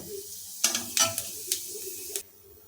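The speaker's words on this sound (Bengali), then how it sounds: "শুকনো লঙ্কা আর গোটা গরম মশলা আর এর সঙ্গে আমরা ফোটনে যোগ করে দেবো সামান্য পরিমাণে গোটা জিরা" Whole cumin, dried red chillies and whole garam masala crackle in hot oil, with a few sharp bursts of sizzling spatter and stirring over a low, steady background.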